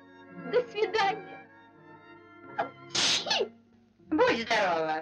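Two voices speak back and forth in a 1958 Soviet cartoon, and in the middle a sharp, breathy sneeze bursts out. Faint steady music plays low underneath.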